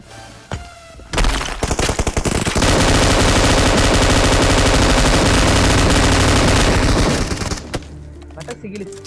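M249 light machine gun firing in an online squad shooter game, a long loud sustained burst after a few short shots, ending in scattered quieter thuds.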